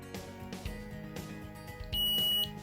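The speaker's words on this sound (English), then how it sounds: "Once safety check is completed, the buzzer will beep once." A medical patch's buzzer gives a single high, steady electronic beep about half a second long after its safety check, ringing out clearly over a faint background hum.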